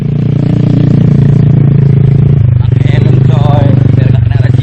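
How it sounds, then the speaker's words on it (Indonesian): A steady motorcycle engine drones close by during an ojek motorcycle taxi ride toward the first post of a mountain climb, with rattling and clatter over it and a voice talking partway through. "Kami menuju pos 1 dengan menggunakan jasa ojek motor"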